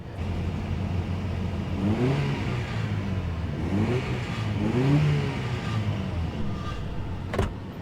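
An old Toyota truck engine idles roughly, then revs up in a few short bursts that rise and fall, moderately close with background rumble, ending with a brief sharp click.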